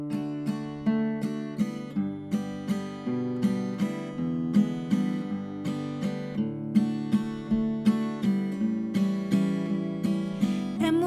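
Steady fingerpicked acoustic guitar plays an original song outdoors in the San Gabriel Mountains, with a rhythmic pattern of plucked notes and chords at moderate volume and no voice.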